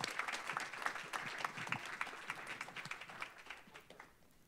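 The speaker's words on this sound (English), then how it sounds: "let's do a round of applause" Round of applause from an audience at a film discussion event, a brief burst of scattered clapping that rises quickly and then tapers off, fairly quiet and heard from a distance.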